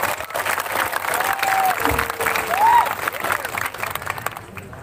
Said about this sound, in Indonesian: Tepuk tangan untuk PSHT.